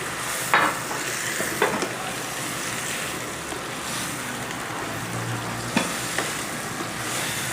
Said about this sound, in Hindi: अब मैं इसके अंदर डाल दूँगी और इन्हें अच्छे से मिक्स कर लूँगी